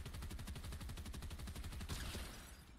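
Rapid, evenly spaced bursts of Mammoth Pistol fire from a first-person shooter video game, a steady run of loud close shots through most of the clip that fades into a softer wash at the end.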